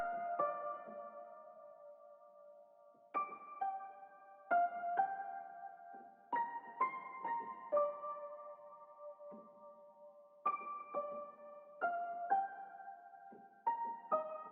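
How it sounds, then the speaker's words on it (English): Bright bell tones from a software sample library ring out in a melodic pattern, struck in clusters with sustained overlapping chimes that decay between hits, clear and alone. "Last thing I added was these bells from Arcade."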